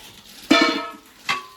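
Steel cooking vessels, of the kind rented out for meals, clang together in two brief metallic crashes with a short ringing tail, loud and close against a quiet room.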